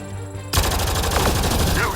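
Mass Effect Andromeda game gunfire erupts suddenly in a loud, rapid burst of repeated shots, continuing as a dense fusillade.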